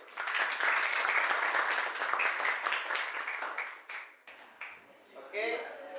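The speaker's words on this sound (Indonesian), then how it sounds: "Beri aplaus untuk kelompok 1." Classroom audience applauding group 1 at a digital microteaching presentation, dense clapping for about four seconds that thins out, followed by a brief voice.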